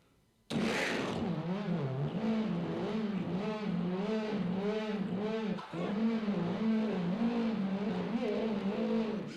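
A man vocally imitates a 900-horsepower car engine firing up, his voice bursting in loud and then holding a wavering, throaty revving drone that dips briefly and carries on to the end.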